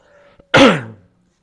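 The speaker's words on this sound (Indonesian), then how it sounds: "Mohon maaf saya agak batuk ini." A single harsh cough or throat clear, loud and close, in a quiet room during an Islamic education management lecture.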